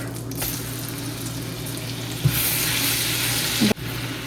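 Garlic sizzles in hot oil with cumin and dried chillies, a steady close hiss with a brief stirring knock near the end, no talk.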